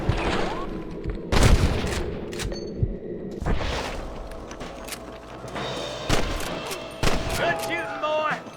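A gunfight in the Red Dead Redemption video game, with sharp gunshots in irregular bursts, some close and loud and others farther off, along with thuds and a ringing tail. Voices speak in short bursts between the shots.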